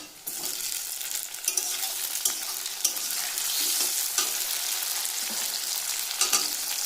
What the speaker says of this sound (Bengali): একটু ভাজা ভাজা হয়েছে, এবার দিয়ে দেবো টমেটো কুচি